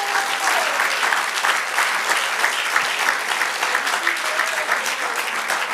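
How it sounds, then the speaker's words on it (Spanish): A church congregation claps steadily during a Spanish-language sermon, a dense even wash of applause that holds across the whole stretch with no clear talk. "Dale un aplauso al Señor."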